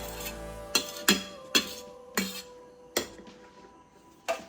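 A utensil stirs cake batter in a bowl, with flour folded in by hand, producing a series of sharp metallic clinks against the bowl at irregular half-second intervals, close and fairly quiet.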